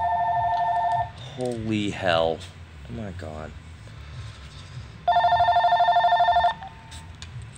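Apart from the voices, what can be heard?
telephone ringing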